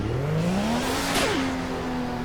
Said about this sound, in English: I'm in the car, and I'm driving.